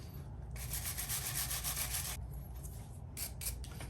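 A brush scrubbing a differential part from a Traxxas Rustler 4X4 VXL RC car, a close, quiet scratchy rubbing in one long stroke followed by a few short quick strokes, with no talking.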